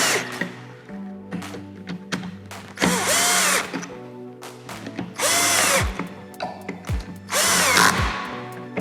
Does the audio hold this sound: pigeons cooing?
no